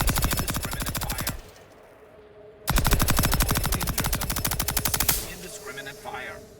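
Rapid automatic gunfire in The Outer Worlds 2, loud, dense bursts of shots with a short pause, then another long burst before fading into quieter ambient sound.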